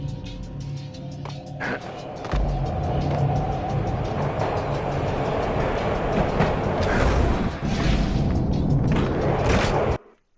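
Train ride in the Max Payne video game, a loud continuous rumbling roar with scattered clanks and booms, cutting off abruptly near the end.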